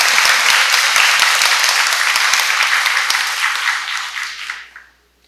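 An audience at the opening ceremony of the 2024 Seoul International Writers' Festival applauds to welcome author Claudia Piñeiro, a dense, steady ovation that holds loud for several seconds before fading away.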